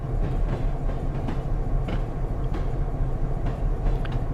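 Highline locomotives roll steadily in Train Simulator Classic, a continuous low rumble with faint rhythmic clicks of wheels over rail joints, heard alone.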